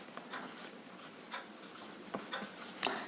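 Chalk or marker scratches across a board during a physics lesson, giving a soft, steady run of close writing strokes with a few sharper taps.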